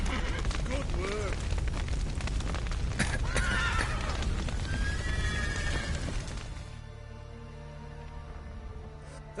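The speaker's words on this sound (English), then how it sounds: "The horse!" A horse neighs in The Witcher 3 video game amid hoofbeats and game noise, with whinnying calls in the first half before the sound drops to a quieter hum.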